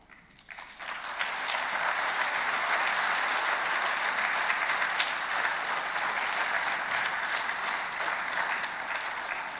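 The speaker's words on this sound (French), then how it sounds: "5 minutes d'applaudissement, il l'a eu." An audience at a national congress of cooperative societies keeps up steady, full applause after a quiet start, a continuous wash of many hands clapping well past nine seconds.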